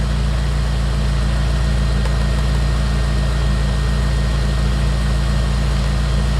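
A Jeep engine runs at about 24% throttle, a loud, steady low-pitched drone with an even, pulsing hum and no change in pitch throughout.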